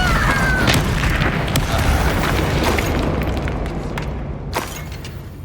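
Incendio fire spell cast in Hogwarts Legacy, a loud booming burst of flame that starts strong and slowly fades over several seconds, with sharp crackling pops scattered through it.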